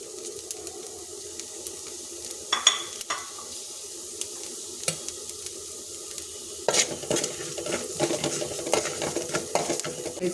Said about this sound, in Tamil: பொரிச்சு எடுக்கும்போது உளுந்து லேசாக வறுத்து எடுத்துக்குவோம்